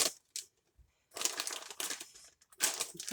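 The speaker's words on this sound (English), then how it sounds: "Use my kitchen scissors." Kitchen scissors snip through a block of frozen spinach, giving crunchy, crackling cuts in short bursts separated by brief pauses, close and fairly clear.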